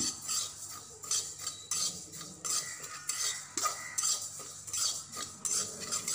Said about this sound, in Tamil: நல்லா பொரிகிற லெவலுக்கு அரிசியை வறுத்துக்கலாம்